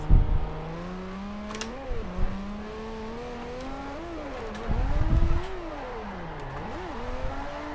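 A drift-tuned car in Forza Motorsport 4 revs loudly up and down, its engine pitch rising and falling in sweeps, with short bursts of tire noise between revs and no talk.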